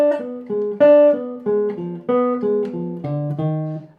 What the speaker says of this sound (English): The final phrase of the solo comes from a 2-octave C harmonic minor scale.